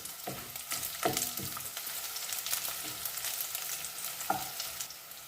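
Onion frying in a pan gives a steady, close sizzle, broken by a few sharp clinks as it is stirred.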